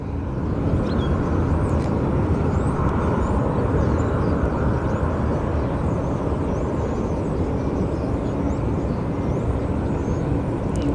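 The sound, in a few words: Southwest airliner taxiing at Phoenix Sky Harbor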